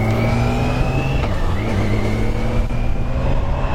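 Steady engine drone of a heavy 330 kg BMW K1600B bagger motorcycle cruising gently at low throttle, a continuous close hum with a slight rise in pitch partway through and no speech.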